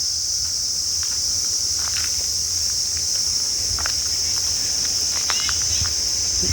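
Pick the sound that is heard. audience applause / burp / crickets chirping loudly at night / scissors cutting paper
crickets chirping loudly at night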